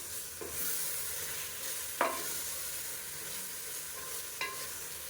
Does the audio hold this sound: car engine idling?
no